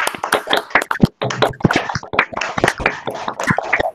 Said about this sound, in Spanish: invito a todos los participantes a activar su micro y dar un fuerte aplauso al